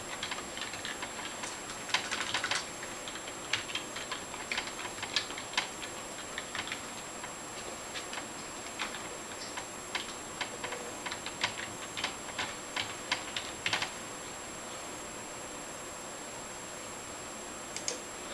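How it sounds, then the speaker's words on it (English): Password being typed on a computer keyboard during an online sign-up, a quick run of light, clicky keystrokes in uneven bursts, close and fairly quiet with no talking. "Then type the password."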